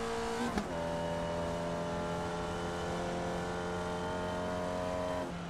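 A Formula Vee race car at Oulton Park in a racing video game holds a steady, loud engine drone, with a brief blip near the start and a constant buzzing tone throughout.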